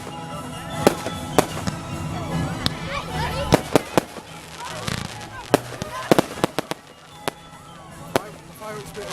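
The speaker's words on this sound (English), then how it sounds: "Zoom in on the fireworks" Bonfire Night fireworks go off in a string of sharp cracks and bangs, some close and loud, over a crowded background with people talking.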